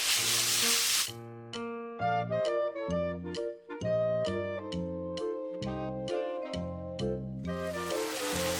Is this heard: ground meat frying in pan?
yes